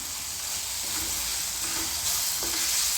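Turmeric sautéed in hot oil in a pan while eggplant bharit is made, giving a steady soft sizzle with light stirring scrapes, close and continuous with no talking.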